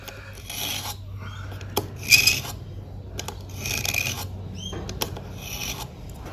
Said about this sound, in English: 2 or 3 passes should be sufficient to hone and polish your edge to a smooth, sharp finish